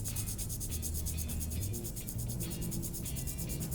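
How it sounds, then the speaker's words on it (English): A straight razor blade is honed lengthwise back and forth in quick, regular rubbing strokes, a soft, steady scraping rasp with no voices. "Now, I might be over honing."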